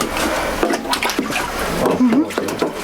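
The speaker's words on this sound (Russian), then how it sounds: "Все это вода." Water pouring and splashing into a flooded apartment in an old, dilapidated house in Yakutsk during spring high water, a steady wash with sloshing under people talking nearby.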